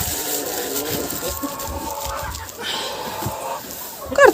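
Chickens cluck and call at close range on a farmyard in freezing winter weather, a low busy murmur of fowl with a sharper cry near the end.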